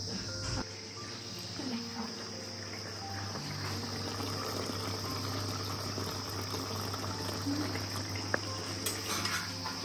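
Mutton curry simmering in water in a pan at home, a steady low bubbling hiss under a constant background hum, with faint clicks and no talking.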